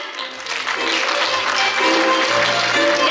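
Applause from the audience at a Tatar folk ensemble concert forms a steady wash of clapping that swells slightly, with a voice or tonal sounds faintly audible underneath.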